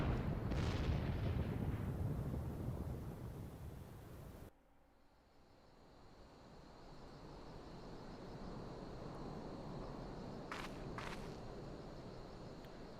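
A distant cannon blast and tower collapse in Final Fantasy XIV bring a loud rumbling crash that roars for about four seconds and cuts off abruptly, followed by quieter ambient wind and two brief faint ticks.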